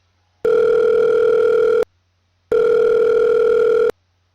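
Telephone dial tone on a call placed to a friend at four in the morning: two steady, loud beeps of about 1.4 seconds each, separated by a short silence, with no voices.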